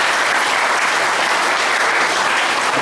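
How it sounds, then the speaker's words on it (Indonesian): Audience applause fills a meditation talk hall, a dense, steady wash of clapping from many hands that holds evenly at full strength from start to finish, with no voices rising above it. "Tepuk tangan dulu."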